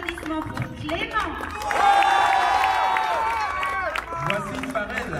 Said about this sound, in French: Un tonnerre d'applaudissements pour Clément.